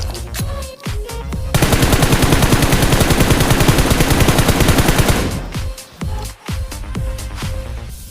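Rapid automatic gunfire in the mobile game PUBG Mobile, a dense sustained burst of loud shots aimed at a vehicle, with sparser single shots before and after.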